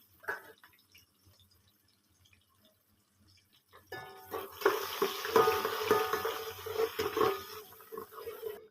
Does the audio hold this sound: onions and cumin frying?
yes